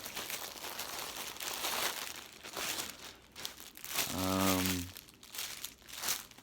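Puffy plastic mailer packaging crinkles and rustles close up in continuous crumpling handling, with a brief tonal squeak or hum partway through and no speech.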